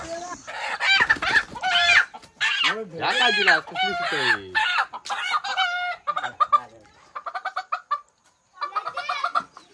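Several chickens cluck and squawk nearby in bursts at a farmstead at night, with a rooster-like crow, while a person briefly speaks among them.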